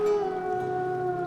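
A dog howls in the video game Final Fantasy 16, a single sustained, wavering howl that is fairly close and clear, with no talking over it.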